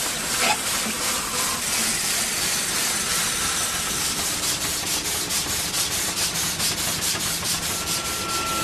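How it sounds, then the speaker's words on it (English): A garden steam engine runs with a loud, continuous rushing hiss of steam, steady and close, with a faint rhythmic pulsing under the broadband noise and a thin tone near the end. "Here in my garden, I've got a steam engine"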